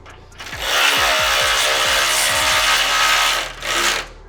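Power tool spinning a 9/16 nut down onto a skid plate bolt during a steel skid plate install on a Toyota 250 Series Land Cruiser: loud, close, sustained whirring with repeated pitch-dropping bursts, a brief pause, then one more short burst.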